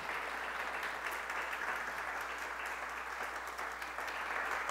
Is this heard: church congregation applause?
yes